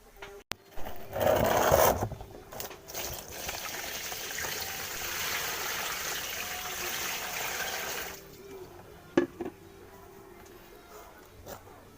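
Tap water runs and splashes while a motorcycle helmet is washed, a loud gushing stream for several seconds that then cuts off, leaving quiet handling clicks and drips.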